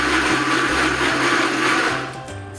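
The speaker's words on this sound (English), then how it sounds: "now I'm mixing it at a higher speed. If you have a Vitamix, it's the number 4" A Vitamix blender runs steadily at a higher speed, blending basil almond pesto with a loud, continuous motor whir and a dense grinding hum that eases slightly near the end.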